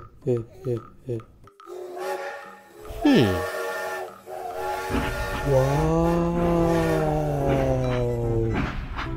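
A train whistle effect gives a long, wavering tonal blast after a few short, choppy bursts, fairly faint and heard on its own.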